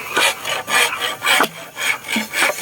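A hand saw rasps back and forth through bamboo in about six steady strokes, close and loud, while building a garden fence.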